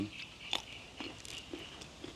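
Crisp crunchy bites of cucumber close up, a few sharp crunches spaced about half a second apart, with soft chewing between.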